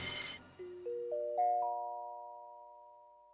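A rising series of chime tones sounds in a school, four or five notes stepping upward one after another, then one ringing note lingers and fades, preceded by a brief burst of noise.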